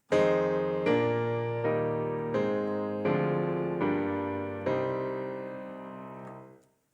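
A diatonic chord progression starting on the supertonic, seven sustained piano-like chords in a row at a steady stately pace, each struck and ringing before the next, ending with a longer fading chord.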